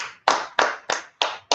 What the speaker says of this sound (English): Let's clap it up for Yahweh Shai